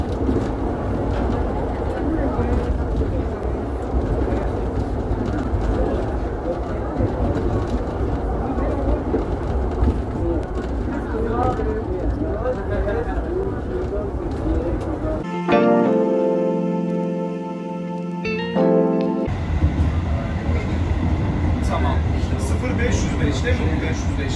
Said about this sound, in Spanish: tomamos el funicular hasta la estación Cavtat